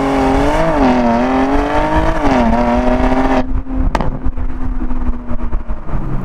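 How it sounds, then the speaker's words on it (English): A 2021 Porsche Panamera 4S E-Hybrid Sport Turismo revs hard in manual PDK mode, its engine note climbing steadily in pitch before a sharp lift-off drops it to a lower, rougher idle-like drone, loud and close with no talking. "Manual mode on the PDK, and listen to this. As the revs climb,"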